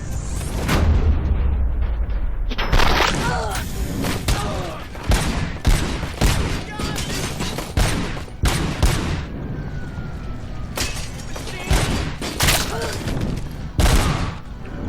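Burst-fire weapon gunfire in the video game Robocop Rogue City comes in loud, dense volleys of rapid shots and booming impacts across the whole stretch, close and intense.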